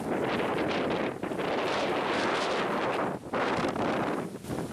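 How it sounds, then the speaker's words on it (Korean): Strong outdoor gusts batter the microphone in a loud, continuous roaring rumble that swells and dips briefly, with no voices. "바람 세다 강풍이 불었어"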